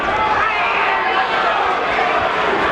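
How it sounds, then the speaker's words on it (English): Boxing crowd at a hometown fight for Augie Sanchez against Luisito Espinosa, a dense steady roar of many voices, loud and continuous throughout. "you can hear the crowd chanting in unison for their hometown favorite, Augie"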